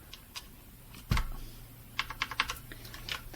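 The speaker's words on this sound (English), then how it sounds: "They are brown switches, not cherry brown, but brown switches. Not a big deal. Still quiet." Typing on a Patriot Viper V760 RGB mechanical keyboard with brown switches: a few scattered quiet key clicks, then a quick burst of several close keystrokes, heard alone at low volume.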